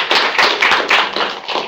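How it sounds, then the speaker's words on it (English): A seminar audience claps at the start of a talk, a brief burst of irregular, close applause lasting under two seconds with no speech. "Clap at the beginning of the talk"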